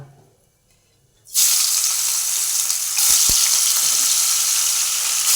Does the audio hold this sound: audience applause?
no